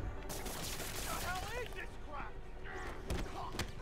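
Gunfire from armed enemies in the Marvel's Spider-Man video game, sharp shots popping through a busy mix of game effects and a talking voice, with a few distinct louder cracks toward the end.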